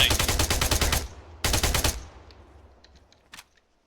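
Automatic weapon fire in the military game Arma 3 laying down suppressing fire: two loud, rapid bursts about a second each, separated by a short pause, then fading echoes and a few distant faint shots.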